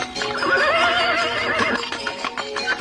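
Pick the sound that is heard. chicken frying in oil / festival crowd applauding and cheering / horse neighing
horse neighing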